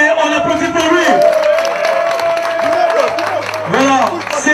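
Crowd applause and cheering for an introduced member at a fan club launch event in Pointe-Noire, a dense, loud wash of clapping mixed with shouts and voices throughout, a low tone droning underneath.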